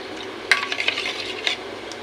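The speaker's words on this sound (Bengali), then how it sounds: "দেখুন নারকেলের দুধটা খুব সুন্দরভাবে মিশিয়ে দেবেন" Coconut milk is stirred into a vegetarian watermelon rind curry in a pot, with soft, close scraping and a few light clinks of a spoon against the pan over a low background hiss.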